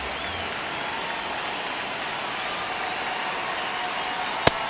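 Stadium crowd in the baseball video game MLB The Show 26 during a tense one-run ninth inning, a steady wash of cheering and murmur with a single sharp click near the end.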